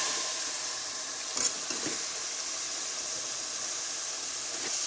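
Chicken pieces hitting hot oil in a pan, a continuous hissing sizzle with a couple of brief clanks and bursts from stirring, close and moderately quiet.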